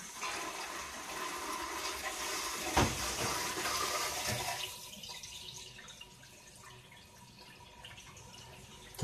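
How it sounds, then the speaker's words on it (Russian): Water is turned on and runs through the plumbing of a Nova Tec NT-S 50-litre boiler, a steady close rush of flow that eases to a quieter trickle about halfway through, with no talk. "Включаем воду, проверяем, не потекает ли нигде."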